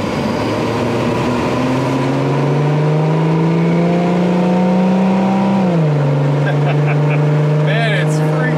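A Ford Bronco II engine with Holley Sniper EFI fuel injection revs loudly and climbs in pitch, drops briefly as it shifts gear, then keeps pulling hard.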